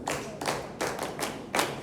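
A small group clapping in several uneven bursts, moderately loud over a steady background hiss, in a school classroom presentation.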